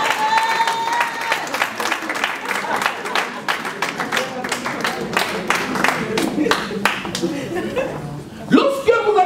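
A wedding congregation bursts into loud, sustained applause and rhythmic clapping, with a crowd chattering and chuckling through it and a brief lull before the clapping swells again at the end.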